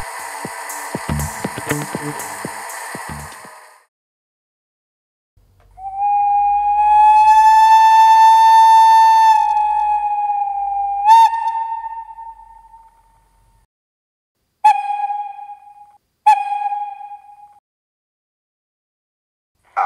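Electric locomotive sounds from a PIKO H0 model sound decoder for an ÖBB Rh 1018: a rising whine that holds steady then fades, a clattering start, and several short horn-like toots near the end.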